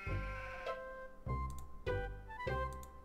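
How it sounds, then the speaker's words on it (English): A sheep in the video game Harvester bleats four times at steady intervals, each cry wavering and fairly loud against a quiet background with a faint ticking. "I want to talk to this fucking sheep."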